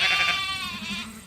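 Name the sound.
sheep bleating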